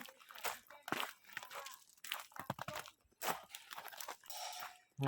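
Someone eating rice with a Thai-style omelette, with crunchy chewing and crinkly bites close up, running on and off with brief pauses.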